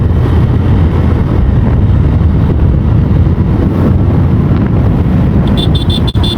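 Motorbike riding along a road, with a continuous low engine and road roar buffeted by heavy wind against the microphone, and a short horn-like toot near the end.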